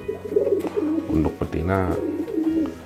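A pigeon coos in several rounded, throbbing bursts close by at a bird-keeping event, while someone talks over and between the calls.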